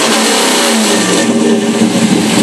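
Loud, steady revving of a 1989 Chevy Caprice box body with an LS1 V8 engine through a freshly installed exhaust, holding a throaty mid-pitched roar close by for the whole stretch.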